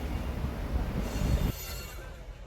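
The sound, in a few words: train passing into Bangladesh at Hili border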